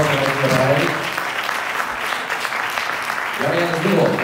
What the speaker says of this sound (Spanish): Así que es un buen aplauso para él.